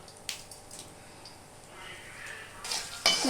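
Urad dal, peanuts and dried red chillies temper in hot oil for poha upma, giving a soft, steady sizzle with a few utensil clicks and scrapes and a louder stir toward the end.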